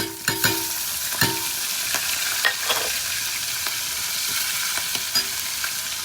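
Ginger frying in a pan for a Karunakizhangu vella kariyamudu curry, a steady close sizzle broken by several sharp scraping stirs of a spoon against the pan, with no voices.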